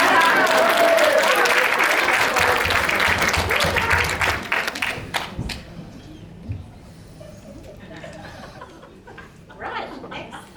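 An audience applauds at a cinema fundraiser prize draw, a loud burst of clapping that fades after about four seconds into scattered chuckles and murmurs.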